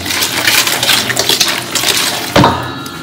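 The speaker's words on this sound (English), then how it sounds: "we're gonna give a good whisk to everything" Eggs, sugar, yogurt and milk whisked together for cake batter make a busy, close, loud clatter of whisk against bowl, ending in a sharp knock near the end.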